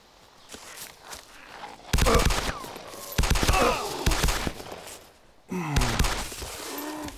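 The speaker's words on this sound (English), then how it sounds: "I hear the pistol. That's me." Pistol shots fired at zombies in Arma 2 DayZ ring out in three separate bursts, each a loud cluster of sharp cracks with ringing echoes, between quieter stretches of rustling movement.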